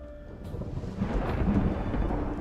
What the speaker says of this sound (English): The thunder effects are pretty cool.